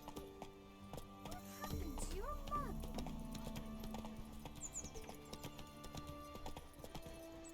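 Hooves of the horse Roach clip-clop in a steady galloping rhythm in The Witcher-style video game, with a brief whinny partway through and faint game sounds around it.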